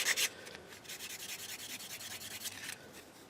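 Plastic parts from a 1/32 scale endoskeleton model kit being scratched smooth, a quiet, close rasping rub in quick repeated strokes.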